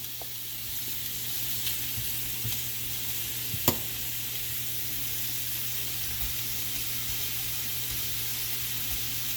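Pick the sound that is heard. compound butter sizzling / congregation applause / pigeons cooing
compound butter sizzling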